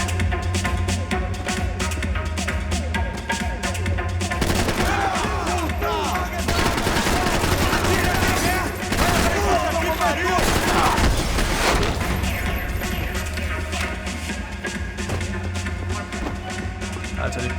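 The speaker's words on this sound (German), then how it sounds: "Die knallen hier aber auch echt alles ab" Gunfire in the video game Max Payne 3, with dense bursts of automatic weapon fire and sharp shots that swell into a loud barrage mid-clip. A voice talks over the shooting at times.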